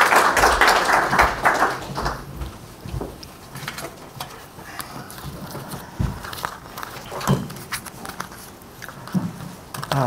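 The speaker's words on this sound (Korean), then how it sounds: "나오실 때 박수로 환영하겠습니다." An audience applauds to welcome a speaker at a lecture, with loud dense clapping at the start that thins into scattered claps, taps and shuffling.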